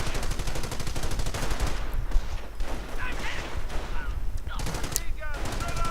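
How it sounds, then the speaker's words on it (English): Heavy machine gun and rifle fire from a World War II strategy game set during Operation Flash, dense rapid bursts rattling almost without pause, loud and close, with scattered sharper single shots on top. "Heavy machine gun though setting up, getting the drop and firing off a lot more bullets."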